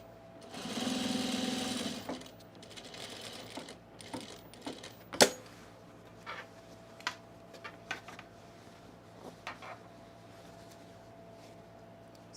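A sewing machine top-stitches the facing on a pair of fabric overalls, with a loud continuous run of about two seconds followed by scattered clicks and short mechanical taps; no one speaks.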